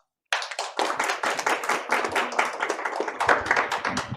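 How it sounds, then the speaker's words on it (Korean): Applause welcoming a student speaker at a child welfare forum in Daejeon, starting abruptly after a moment of silence, then a brisk, moderately loud patter of many hands clapping in a steady, slightly uneven rhythm. "큰 박수로 환영해 주시기 바랍니다"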